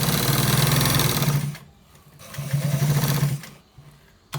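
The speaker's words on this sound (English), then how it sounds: "We are stitching it from the top part to the down part" Sewing machine running at speed while stitching a white trouser from top to bottom, two loud sustained bursts of whirring with a short pause between them and a brief restart at the end.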